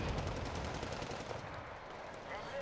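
Artillery barrage in the Wargame Red Dragon strategy game, a dense continuous roll of overlapping blasts and rapid gunfire-like bursts at steady loudness, with some voice-like texture mixed in.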